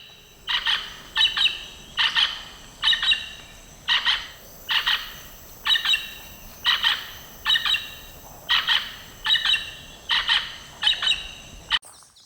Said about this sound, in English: This is one of the largest parrots in the world, and apparently one of the loudest as well